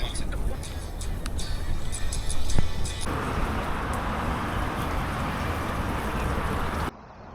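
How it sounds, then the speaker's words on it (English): Steady city traffic on the cycling route into Busan, South Korea, forms a continuous roar of passing vehicles close by, with wind buffeting and rattles, then cuts to a quieter hum near the end. "already I can hear the volume of traffic has increased considerably"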